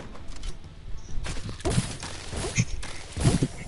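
Gunfire in Red Dead Online comes as several sharp shots in irregular bursts, close and loud, mixed with other game noise.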